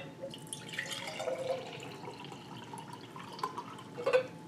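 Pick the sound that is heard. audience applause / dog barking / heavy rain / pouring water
pouring water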